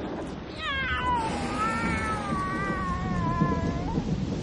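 A single drawn-out cat meow, plaintive and wavering, over a steady rumbling background like rain or distant thunder.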